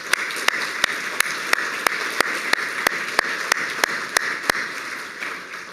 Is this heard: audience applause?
yes